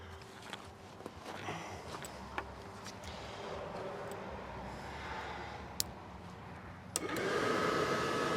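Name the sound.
furnace fan motor spinning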